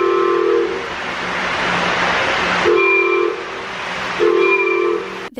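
A locomotive's bell rings in a train simulator, sounding in repeated clangs alongside loud rumbling train noise and steady hiss.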